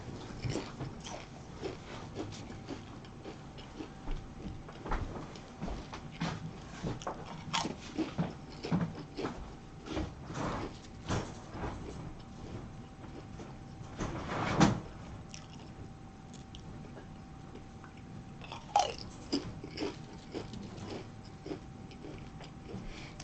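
Pringles potato chips crunching in repeated short, sharp bursts, some loud and close, over a steady low background hum with no talk.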